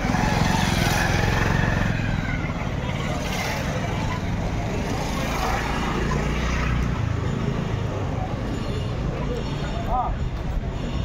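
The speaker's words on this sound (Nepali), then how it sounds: "यहाँ देख्न सक्नुहुन्छ हजारौँवटा मोटरसाइकल यहाँ देख्न सक्नुहुन्छ" Many motorcycles rumble and rev together at a large rally, a dense, continuous engine roar heard at close range with a person talking over it.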